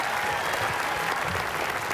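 Studio audience applauding on an Indonesian family game show, loud sustained clapping from a crowd that fills the whole moment evenly without pause.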